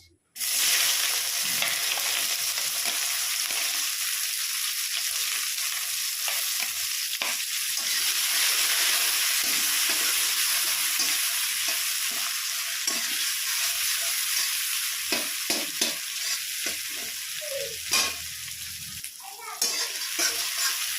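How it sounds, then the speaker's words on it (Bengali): Chopped onions with whole cumin and two dried red chillies fry in a little oil, a loud, steady, close sizzle with a few stirring scrapes near the end. "পেঁয়াজটা একটু ভাজা করে নেব।"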